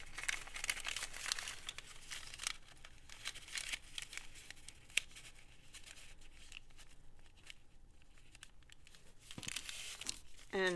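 Very thin brown paper bag folded down and crinkled by hand, a steady rustling crackle with scattered sharper crinkles throughout, close and moderately quiet.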